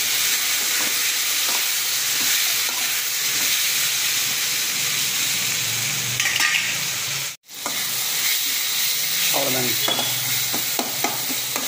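Tomatoes and dried red chillies sauté in a pan for a chutney, giving a steady close sizzle with scattered stirring scrapes and one brief dropout, with no talking.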